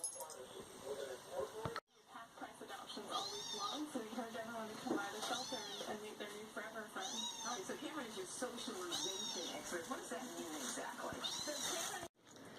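Cat meowing repeatedly in a house, several rising calls spread through the clip, close and fairly loud, with a voice speaking over them.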